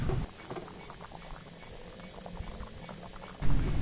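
Gulai of langkitang snails and sweet potato simmers in a covered pot, giving a steady soft bubbling and patter close by, with no talking.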